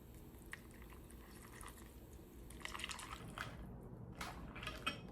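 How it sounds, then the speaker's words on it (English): Milk is poured into a bowl of Cocoa Loops chocolate cereal, a faint liquid trickle and splashing with small crackles from the cereal, close but quiet. "We'll now be pouring milk in our Coca Loops."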